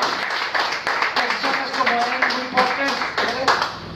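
A crowd applauds in honor of women during a Spanish-language broadcast, with steady, close clapping and scattered sharp claps running the whole time beneath people talking.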